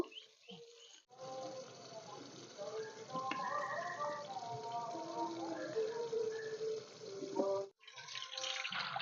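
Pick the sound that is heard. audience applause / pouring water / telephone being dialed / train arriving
pouring water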